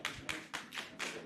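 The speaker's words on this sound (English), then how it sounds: "Let's clap for our chairman now." An audience at an annual general meeting and scientific conference claps for its chairman. The clapping is faint and distant, heard as a few evenly spaced bursts of hand claps with no voices.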